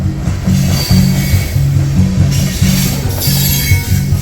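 The tail end of a freight train passes close by, with rhythmic repeating clunks of wheels over rail joints under a steady rumble, loud and brief.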